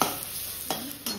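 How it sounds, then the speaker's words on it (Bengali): Spice paste is added to frying onions in a pan for onion and poppy seed curry, giving a brief scrape of a stirring spoon with soft sizzling and a couple of sharp clinks, close and quiet. "এবার দিয়ে দেবো মশলাটাকে।"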